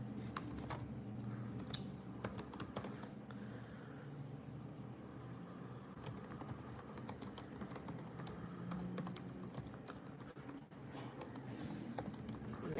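Quiet clicking of fingers typing on a computer keyboard in irregular bursts, with a low rumble of passing traffic in the background.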